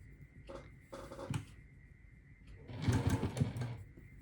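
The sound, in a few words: sewing machine stitching a quilt block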